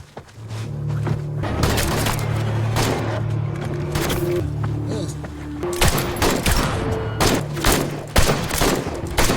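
Rapid bursts of gunfire rattle through an action film scene, dense volleys of sharp shots with thuds and booms layered over a low musical drone, loud and close throughout.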